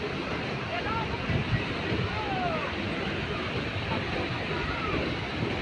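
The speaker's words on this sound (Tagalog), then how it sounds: "Manood pa ako ng alon." Ocean waves wash steadily onto the shore at Aparri, Cagayan, a dense continuous roar with wind noise across the microphone and faint voices of people nearby.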